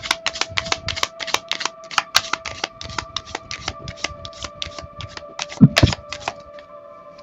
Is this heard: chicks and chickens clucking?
no